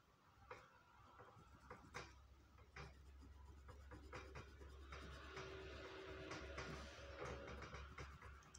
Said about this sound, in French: enfin les deux grands, là, je vais venir les colorier en rouge